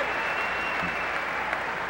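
Audience at the 1995 Arnold Classic bodybuilding show applauding a competitor, a steady dense wash of clapping that holds at an even level throughout.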